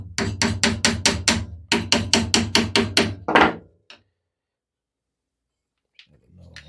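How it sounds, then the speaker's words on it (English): A small hammer taps wood in a quick steady series of about a dozen sharp knocks, with a brief pause midway, then silence and a faint click. "I just took a little hammer and then just go ahead and, you know, tap these"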